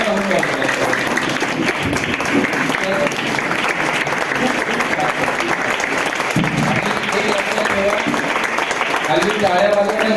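A seated-then-standing audience at a charity music event applauds steadily and loudly throughout, a dense wash of clapping mixed with some cheering and voices.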